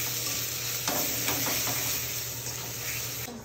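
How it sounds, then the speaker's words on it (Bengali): Spice paste mixed with tomato paste for bitter gourd dish sizzles in a pan while being stirred, a steady frying hiss with a few scraping stirs and a low background hum, no talking. "এবার এই মশলাগুলো ভাজতে হবে"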